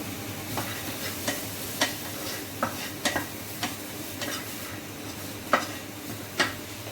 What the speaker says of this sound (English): And gonna put my bread pieces on the tawa.